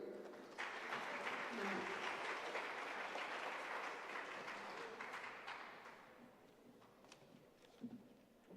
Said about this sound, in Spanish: Recibimos con un fuerte aplauso a la doctora Pamela Aguirre.